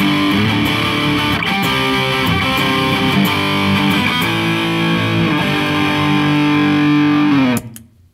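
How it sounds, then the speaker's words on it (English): An electric guitar plays through the distortion channel of a triple rectifier amp, loud saturated chords and sustained notes ringing for several seconds before cutting off abruptly at the end. "I've got channel 2 of the triple rectifier, which is pretty much distortion."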